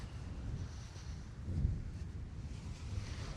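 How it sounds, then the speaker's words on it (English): Wind roars across a stormy beach on the sea fishing coast at Trimingham, a steady low buffeting rush with microphone wind noise and distant surf, continuous and unbroken without any talk. "Oh, that wind's a pain."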